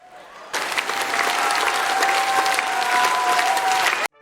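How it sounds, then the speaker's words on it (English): Audience applause for a comedy show's AI performer bursts in after a brief quiet start, a loud, dense, sustained clatter of many hands lasting about three and a half seconds before cutting off abruptly, with a faint tone running underneath. "let's have another round of applause"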